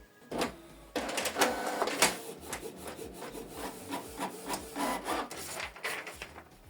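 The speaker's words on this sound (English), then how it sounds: "Print test page." A Canon TS3752i inkjet printer runs a test page, giving quiet mechanical rubbing and whirring broken by sharp clicks and clacks as the paper feeds and the print head moves.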